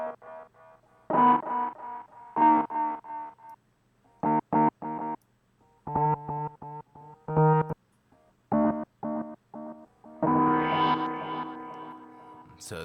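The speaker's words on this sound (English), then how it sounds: "It sounds kind of like there's like a delay and a reverb." A Moog Matriarch synthesizer runs through a Polyend Mess Space Time delay and reverb effect, playing short staccato notes and clusters with echoing tails, ending in a denser washed-out swell, loud and close with no talk.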